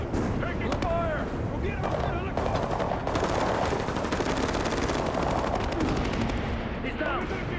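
Dense, continuous automatic gunfire and explosions from an Ubisoft video game demo, rapid rattling bursts loud and close throughout, with shouted voices over the combat.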